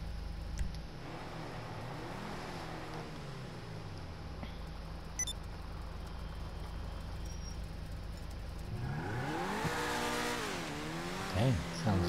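The Stromberg's engine in GTA 5 idles at low volume, then revs hard several times toward the end, with brief game effects and faint talk around it.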